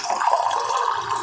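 Water pours steadily into a measuring cup in a home kitchen, a continuous close, gurgling stream lasting about a second with no voices.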